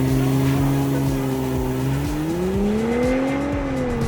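A Porsche Cayenne E-Hybrid with a regular automatic transmission accelerates hard, its engine drone climbing steadily in pitch through an upshift, loud and close from inside the cabin.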